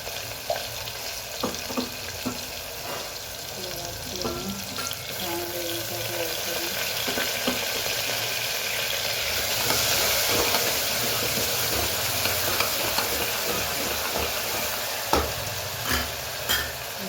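Crushed garlic and chili fry in a pan while being stirred, a steady sizzle with scraping clinks of a spoon throughout about seventeen seconds, loud and close with no speech.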